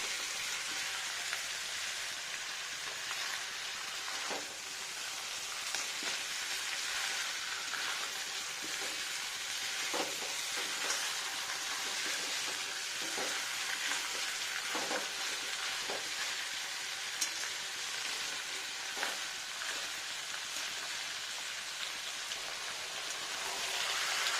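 Chicken pieces and raw potato chunks frying in a pan, an even, continuous sizzle with scattered crackles and spits that holds steady at moderate volume with no talking.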